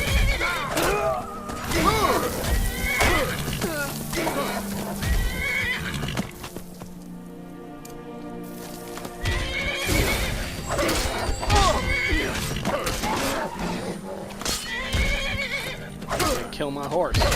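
A horse in the Skyrim video game neighs and whinnies repeatedly amid clip-clopping hooves and combat clatter, loud and close, with a quieter pause in the middle before the whinnies resume.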